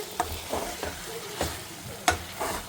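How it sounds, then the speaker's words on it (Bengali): Mutton is sautéed with a splash of water in a pan, giving a soft sizzle punctuated by four or five sharp spoon scrapes as the meat is stirred. "জলটা দিয়ে দিয়ে হচ্ছে মটনটাকে কষাবো"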